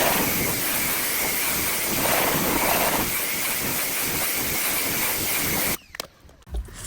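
Water spray hisses steadily against a tire and wheel during a touchless rinse, a loud continuous broadband wash that cuts off abruptly near the end, leaving quieter scattered drips and handling noises.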